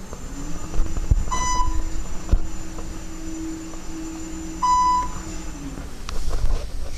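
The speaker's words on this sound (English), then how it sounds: "Listen to that favorite motor." An elevator motor hums steadily as the car rides between floors, with two short electronic beeps breaking through the drone partway along.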